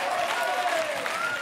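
Studio audience applauding on a television quiz show set, dense steady clapping throughout, loud and close, with a faint voice briefly audible underneath.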